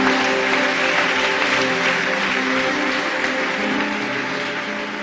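A church congregation claps for a sustained stretch, steady and fairly loud, with a droning musical tone underneath.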